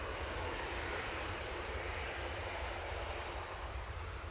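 A TUI airliner begins its takeoff roll at Manchester Airport, a steady broad roar of engines heard from a distance with no other sounds.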